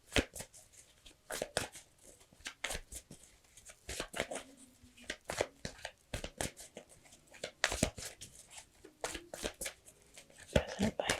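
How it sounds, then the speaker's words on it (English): Tarot cards being shuffled by hand, a close, quiet run of irregular papery riffles and taps in bursts with short pauses, with no voice over it. "So you guys can see me shuffling. You could hear me shuffling, though."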